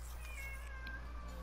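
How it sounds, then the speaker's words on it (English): A house cat meows faintly in the background, a short distant call over a steady low hum, with no talk. "my cat meowed in the background."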